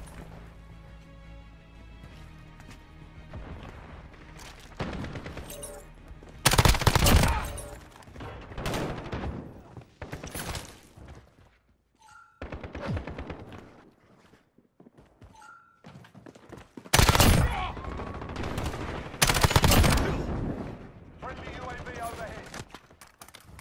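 Ram-7 rifle gunfire in Call of Duty Modern Warfare comes in several loud bursts separated by quieter stretches of game sound and faint voices.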